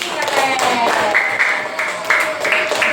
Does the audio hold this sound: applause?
yes